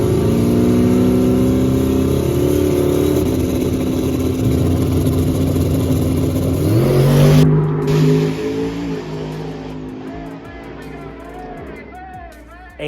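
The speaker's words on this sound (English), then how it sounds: "The car takes off and goes pretty straight for quite a ways." A car on radial tires takes off and accelerates, its engine rising in pitch to a loud revving peak, then fading as it pulls away into the distance.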